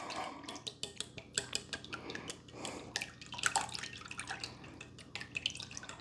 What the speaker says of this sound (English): Grab your whisk, start whisking.